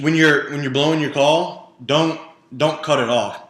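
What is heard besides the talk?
No everyday noise stands out behind the speech.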